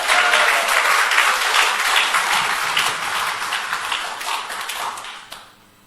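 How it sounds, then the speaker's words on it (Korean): A church conference congregation applauds in praise, a dense, loud wash of many hands clapping that carries steadily before fading out abruptly near the end. "예수님의 이름으로 주님께 영광의 박수 올려드리겠습니다"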